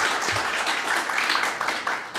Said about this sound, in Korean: 박한용 박사님에게 큰 박수 다시 한번 부탁드리겠습니다